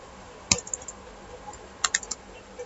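Code being typed on a computer keyboard for a Flask app, two short clusters of sharp, close key clicks separated by quieter pauses, with no voices.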